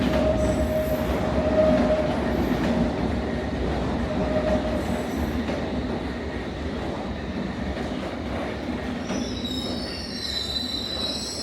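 A London Underground train rumbles steadily along the rails, with a sustained metallic squeal of wheels and a brief high screech near the end; no voices.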